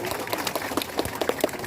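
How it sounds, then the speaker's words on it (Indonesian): Applause from an outdoor crowd at the opening of a rowing-boat racing festival, dense scattered clapping mixed with crowd murmur and a few tonal accents, moderately loud and close. "Tepuk tangan buat Pak Hasanul Khalid."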